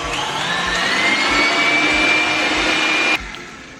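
An electric stand mixer beats cake batter at high speed, a loud steady whining motor hum that rises slightly in pitch, then cuts off abruptly near the end, leaving a quieter winding-down tail.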